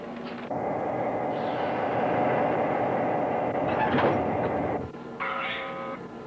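Burlington Northern freight cars rolling in a hump yard as a caboose is dropped, a steady loud rumble of wheels on rail lasting several seconds, with a brief high squeal near the end.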